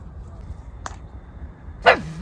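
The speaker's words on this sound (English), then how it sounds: "you don't bark at the sheep or the alpacas" A single sharp dog bark from Harris on a walk near sheep and alpacas, short and fairly close, preceded by a faint brief yip, over a quiet outdoor background.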